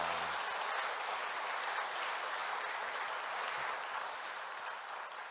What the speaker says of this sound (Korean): 우리 다시 한번 하나님께 영광의 박수 드릴까요?